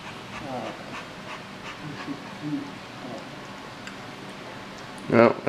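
A dog pants in quick, soft breaths nearby, with faint room noise and a brief louder burst near the end.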